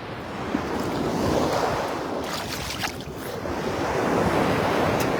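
Ocean surf washes onto a North Carolina beach in October, a broad rushing roar that swells and recedes in slow surges, with some wind buffeting on the microphone.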